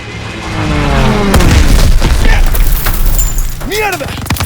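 Stuka dive bombers attack in Call of Duty WWII, a sudden heavy boom followed by a sustained rumbling roar of explosions and battle noise, very loud and close, with shouting voices mixed in.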